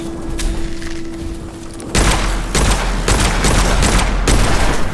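Weapon gunfire in the shooter video game Witchfire, a slow-firing gun: a quiet stretch with a steady tone, then loud sharp shots and bursts repeating for the last three seconds, close and dense, with no talk.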